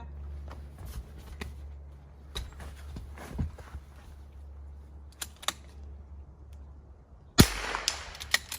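Rimfire rifle shots fired at steel KYL targets on a precision range: several sharp, sparse cracks with a louder crack near the end, over low steady background rumble and faint handling clicks.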